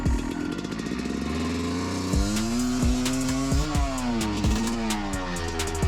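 Enduro motorcycle stuck in forest ruts, its engine revving repeatedly with rising and falling pitch sweeps, close and loud, bursts of throttle alone without talk.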